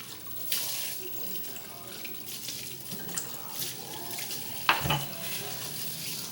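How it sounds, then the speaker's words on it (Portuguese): Sushi rice rinsed by hand under a running tap in a home kitchen: steady splashing water with soft hand swishes and a sharper splash near the end, close by. "você tem que ir passando a mão para ir tirando a água dele, para ir lavando"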